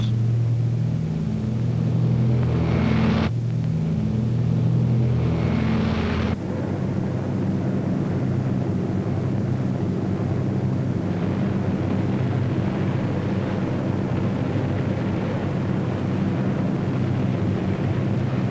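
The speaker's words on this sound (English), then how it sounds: "In June, Hitler's fortress Europe rocked under the terrific pounding of RAF bombers" RAF bomber aircraft in flight, heard in a 1944 wartime newsreel: a continuous loud, droning roar of engines that holds steady throughout with no pauses.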